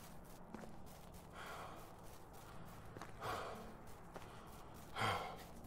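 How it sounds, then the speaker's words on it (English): Video game character breathing heavily after running, with faint repeated sighs and gasps, louder exhales near the middle and end, quiet overall with soft footsteps. "Heavy breathing, that's right."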